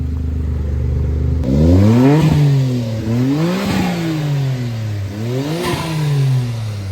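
A Daihatsu Mira turbo kei car engine revs sharply several times, each rise and fall of pitch quick and buzzy, close and loud over a rattly idle.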